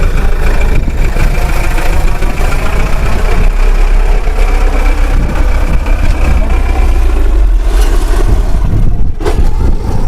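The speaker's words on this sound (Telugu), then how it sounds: "ఇలా లారీలు కూడా వస్తూ ఉన్నాయండి." Lorries idling and rumbling at the Guntur chilli market, a loud continuous heavy engine drone close by with a brief clatter near the end.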